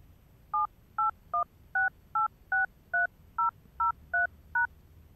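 Eleven telephone keypad tones enter a phone number in a quick, slightly uneven sequence, each a short clean dual-tone beep separated by silence against a faint background hiss.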